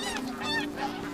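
Loud, close ducks honking in an overlapping, continuous chorus of nasal calls, steady throughout with no talking.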